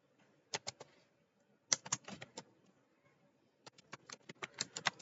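Typing code on a computer keyboard: crisp, close key clicks in short bursts separated by quiet pauses, in a silent room.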